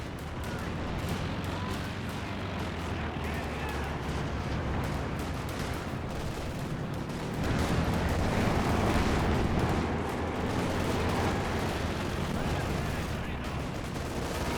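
A .50 cal machine gun fires in Company of Heroes 2, dense bursts of gunfire mixed with other battle noise, steady and loud, with a commentator's voice running underneath.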